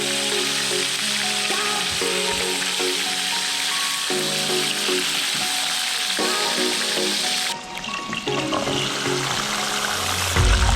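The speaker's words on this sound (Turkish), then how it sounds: "İstaroz atıldı, istaroz pişiyor." Parrotfish sizzles loudly and continuously in a pan of hot oil, a dense frying hiss that carries on for the whole stretch, with brief clinks partway through.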